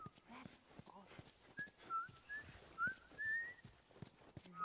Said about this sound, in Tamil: அம்மா நீ விசில் பண்ணி ஜாம்பிய கூட்டுறாதம்மா.